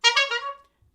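A voice mimics two quick car horn honks, a bright, buzzy, nasal tone that swells twice and then stops within about half a second, close and fairly loud.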